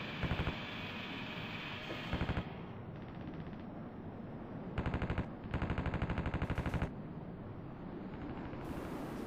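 An aircraft cannon fires in the flight-combat video game Strike Fighters 2, in several short rapid bursts over a steady engine and wind roar, loud and close.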